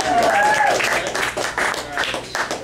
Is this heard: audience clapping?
yes